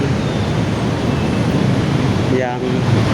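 Congested evening traffic crawling under the Antasari flyover in Jakarta, a dense steady roadway roar of private cars and motorbikes with a brief rising engine whine near the end; no speech.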